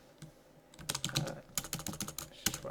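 Quick bursts of keystrokes on a computer keyboard while text is entered in LibreOffice Writer, close and clear, in an irregular rhythm with short pauses between words.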